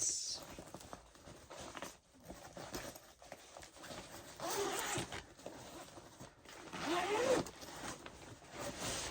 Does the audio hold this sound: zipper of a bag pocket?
yes